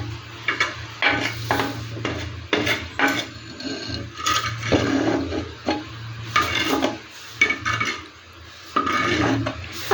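Mussel meat cooks in a pan as the water boils off, with irregular scraping stir strokes and a light sizzle repeating close by.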